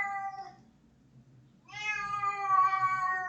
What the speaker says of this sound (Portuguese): Minha gata.